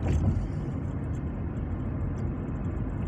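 A car engine holds a steady idle around 1600 rpm, a low continuous hum heard close up and fairly quiet, without voices.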